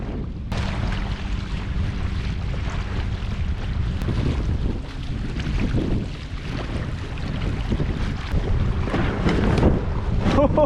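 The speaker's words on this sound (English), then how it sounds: "those are some nasty ass waves" Rough water churns and slaps steadily against a small DIY electric raft, with heavy wind rumble buffeting the microphone throughout.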